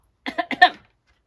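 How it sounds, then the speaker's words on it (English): A quick burst of four short coughs, close and sharp, followed by silence. "I just tend to cough when I eat something that's vinegary."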